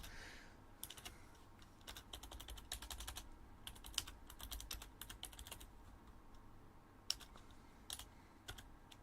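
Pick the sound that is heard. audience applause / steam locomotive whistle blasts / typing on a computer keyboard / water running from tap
typing on a computer keyboard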